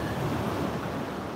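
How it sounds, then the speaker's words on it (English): Ocean surf rolls steadily onto a quiet morning beach at Marco Island, a continuous broadband wash of breaking waves with some wind rumble, loud and close, no voices. "and the big beautiful waves"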